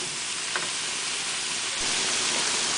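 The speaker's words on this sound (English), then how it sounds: "saute all of these until the eggplant is translucent, even brown" Eggplant and mixed vegetables sauteing in a pan give off a steady, loud sizzling hiss, unbroken from start to finish with a faint stir or clink here and there.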